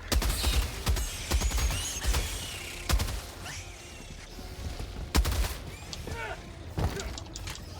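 Heavy machine gun fire in Helldivers 2: sharp, loud bursts and single cracks at irregular intervals, with mechanical clicks and clatter between shots and some chatter from people nearby.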